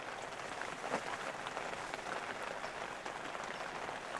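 Steady rain falls on a farming village on Jeju Island, where snails crawl over stone walls, as a dense, even hiss of countless drops that stays constant throughout.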